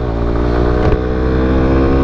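A loud 125cc motorcycle engine roars steadily at close range, its pitch holding high with a brief mechanical rattle midway.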